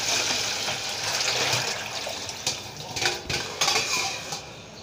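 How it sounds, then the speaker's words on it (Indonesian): Water being poured out of a bowl of soaked papaya pieces while making papaya candy: a steady close splash and rush of liquid, ending in a few clinks and knocks of kitchenware. "Kita buang airnya."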